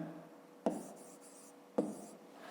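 Handwriting on paper while working a fifth-grade maths exercise: two short bursts of pen strokes, each opening with a sharp tap, over faint room hiss, quiet and close, with no talking.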